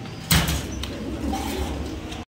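Pigeons coo softly nearby at a pigeon farm, with a sharp knock or clatter early on and a steady low background hum throughout.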